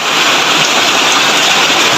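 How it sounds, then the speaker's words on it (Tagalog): Heavy rain pours down steadily at close range in a rural farm setting, a dense, even hiss with no gaps and no voices. "Lumaki yung lumak, malakas yung ulan"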